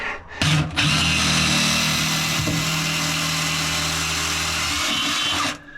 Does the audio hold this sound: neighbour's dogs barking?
no